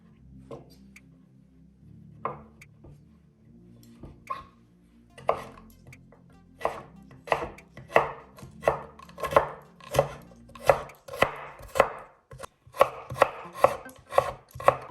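A knife chopping a carrot into sticks on a board, a few scattered cuts at first, then a quick regular run of crisp, close thuds that grows louder and steadier, no voices.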